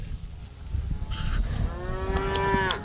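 Farm cattle moo loudly and close by, with one long drawn-out bellow rising over a background of shuffling and lower calls as the herd is fed before a winter storm.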